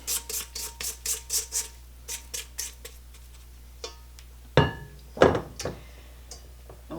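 A spatula scrapes around a mixing bowl of lemon poppyseed muffin batter in a series of close, quick scraping strokes, followed by a couple of louder knocks against the bowl.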